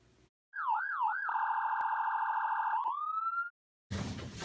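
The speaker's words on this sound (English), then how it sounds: "Sound the alarm." An electronic alarm siren wails loudly and alone, a warbling tone shifting into a long steady blare and then a rising sweep, framed by brief silence.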